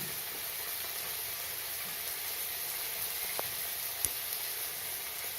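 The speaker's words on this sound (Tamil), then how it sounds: "தக்காளியும் நல்லா வதங்கணும் வதங்கினா தான் கொஞ்சம் குழையும் தக்காளி வதங்கட்டும்" Tomatoes softening in a pan for an egg pepper gravy, giving a steady, quiet hiss of sizzling with an occasional faint tick, close and without talk.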